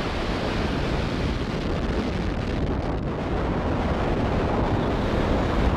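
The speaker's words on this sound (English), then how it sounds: "Engines full power. And liftoff of ViaSat 3." Falcon Heavy rocket engines at night liftoff carrying the ViaSat-3 Americas satellite, a loud continuous broadband roar that stays steady and thunderous throughout, with no voices.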